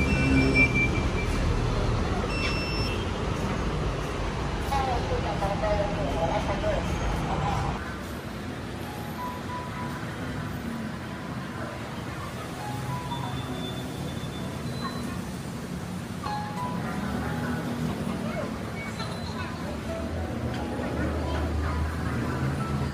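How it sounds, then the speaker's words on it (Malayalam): A Bangkok BTS metro train at a station gives a steady broadband rumble and hiss that drops in level partway through, then holds a lower, even roar with some voices nearby. "ഇവിടുത്തെ മെട്രോ ട്രെയിൻ എങ്ങനെയാണെന്ന് നമുക്ക് കാണാം."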